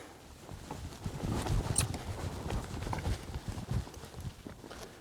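Hooves of a horse on soft arena ground during a horsemanship training session, a quiet rhythmic thudding that eases as the horse slows from a lope.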